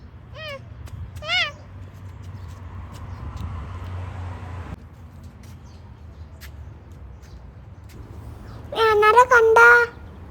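Two short meows early on, then a louder run of cat meowing near the end, over a low steady background hum, indoors in an evening home in Dubai.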